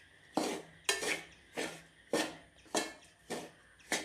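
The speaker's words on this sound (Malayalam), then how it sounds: "ഇനി കൈവിടാതെ തന്നെ നമ്മൾ ഇളക്കിക്കൊണ്ടിരിക്കണം" Avalose powder stirred nonstop in a pan, a spoon or spatula scraping the bottom in steady, evenly spaced strokes, about seven close, crisp scrapes with brief gaps between them and no voices.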